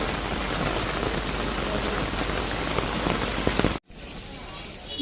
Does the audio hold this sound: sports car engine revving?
no